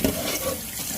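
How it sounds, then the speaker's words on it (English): Tap water runs loudly and steadily into a kitchen sink as red cabbage is rinsed under the stream, a close, continuous splashing rush. "Next, we're gonna wash our cabbage."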